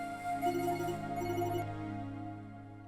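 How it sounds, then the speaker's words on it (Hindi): A telephone ringtone plays a bright tonal melody, fairly quiet, then fades out as the ring stops. "इस वक्त किसका फोन आ गया भाई?"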